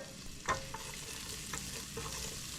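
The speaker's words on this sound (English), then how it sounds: "To this, we're going to add the red pepper. And we're going to saute that just for a minute or 2." Red pepper sautéing in a pan for a homemade General Tso's and sesame chicken dish, a steady close sizzle with a few light spoon clicks and stirring scrapes.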